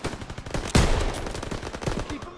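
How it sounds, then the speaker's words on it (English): Machine guns open fire in a battle scene, rapid bursts of gunfire rattling continuously and loudly, with a heavy blast near the start and the shots packed densely together. "MGs, open fire."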